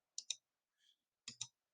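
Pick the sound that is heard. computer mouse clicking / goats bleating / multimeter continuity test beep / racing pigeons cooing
computer mouse clicking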